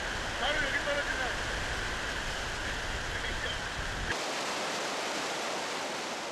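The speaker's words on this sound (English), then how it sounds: "Who knew that such a big waterfall would exist in the depth of this tropical forest?" Iguazu Falls in the Argentine tropical forest roars as a steady wash of heavy falling water. Faint voices sit under the noise at first, then the sound shifts to a thinner, airier roar.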